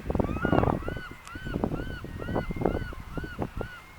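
Canada goose honking in a steady series of loud, nasal calls near a creek by the ocean, repeating roughly every half second with water and ambient outdoor noise beneath.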